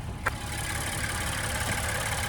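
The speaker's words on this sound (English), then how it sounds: "And there's that 3-liter EcoBoost V6." A 2026 Ford Explorer Tremor's 3-liter EcoBoost V6 idles at a steady, low rumble, close and constant, with a brief click near the start.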